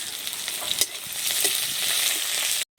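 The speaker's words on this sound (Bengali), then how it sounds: "পেঁয়াজটাকে দিয়ে বেশ ভালোভাবে ভেজে নেব।" Onions frying in a pan with chilli and whole cumin, giving a steady, close, loud hiss of hot oil with a few brief stirring knocks, then a sudden cut to silence at the end.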